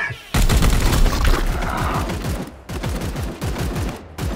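Rapid, sustained automatic gunfire from a Warhammer 40k Chaos Gate Daemonhunters battle, a dense loud fusillade of repeated shots with a few short pauses, filling the whole stretch.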